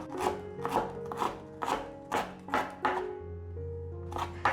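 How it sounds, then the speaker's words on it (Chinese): A knife slicing ginger on a cutting board, about nine crisp, evenly spaced chops close by, each a sharp knock against the board. "准备10克的姜，切成姜末，先切片。"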